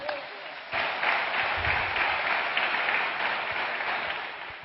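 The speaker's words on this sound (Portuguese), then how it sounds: "Ah, gente, aplaude isso aí." A church congregation applauds at a sermon, the clapping swelling in after a brief quiet start and holding steady and dense to the end, with faint voices mixed in.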